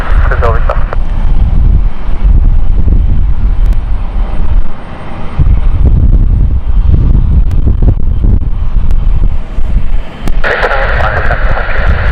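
A P-51 Mustang takes off from runway 27, its engine roar loud and continuous with wind buffeting the microphone, a brief dip partway through and a brighter surge near the end, with a voice talking over it.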